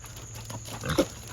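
Pigs in a farm pen give a short grunt near the end, heard close over a steady low background hum, with no talking.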